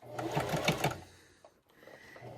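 A sewing machine runs in a quick burst of steady stitching around the edge of a fabric dish drying mat, then stops and starts again briefly, close and clear with a soft voice faintly underneath.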